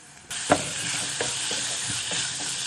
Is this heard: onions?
yes